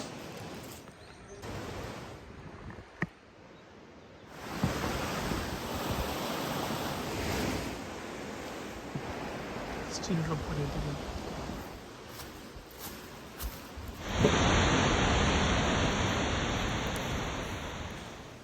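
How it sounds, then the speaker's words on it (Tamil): Rushing water at the Sandankyo gorge waterfall in Hiroshima, Japan, makes a steady broad roar heard up close, with wind buffeting the microphone and a louder surge near the end. "சூப்பராக இருக்குது பார்க்குறதுக்கு அட்டகமான இந்த வாட்டர் ஃபால்ஸ்"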